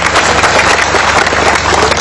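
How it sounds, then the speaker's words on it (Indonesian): A crowd applauds loudly and steadily, dense clapping filling the whole moment. "Tepuk tangan untuk Baitul Ilmi."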